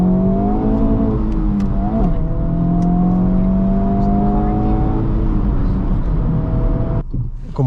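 A 2024 Honda Civic Type R with a 6-speed manual gives off a loud, close engine drone whose pitch climbs and shifts as it revs, carrying on steadily before dropping away abruptly near the end.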